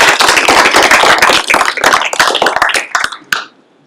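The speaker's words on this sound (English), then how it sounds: "let's give him another round of applause anyway" Close, loud clapping from an audience at a youth apprenticeship signing-day ceremony, thinning into a few scattered claps before stopping abruptly near the end.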